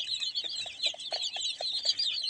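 Native chickens at a poultry farm cluck softly in a series of short, scattered calls over a steady high background hiss, with no talk.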